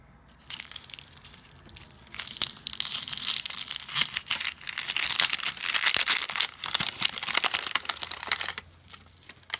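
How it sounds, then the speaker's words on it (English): Packaging from a stitching kit box is crinkled and rustled up close, in irregular crackling bursts that grow busier midway before quieting. "Lots of crinkles."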